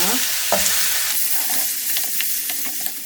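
Steady, bright sizzling of onions and garlic frying in hot olive oil, with occasional stirring scrapes in the pan, close up and without voices.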